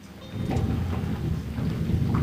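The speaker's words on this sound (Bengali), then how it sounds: "মেঘ ডাকছে বন্ধুরা, শুনতে পাচ্ছেন?" Low thunder rumbles steadily through the whole short stretch, mixed with a hiss of rain, close and fairly loud with no voices.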